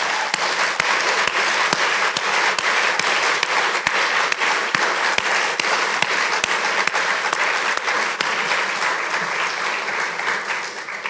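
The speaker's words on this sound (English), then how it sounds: "Kendi a round of applause." Auditorium audience applauding at a lecture event, steady dense clapping throughout with a few sharp individual claps standing out, loud and sustained, tapering slightly at the end.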